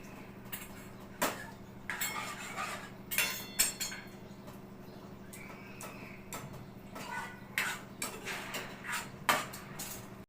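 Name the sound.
stirring cream in a pan with a spoon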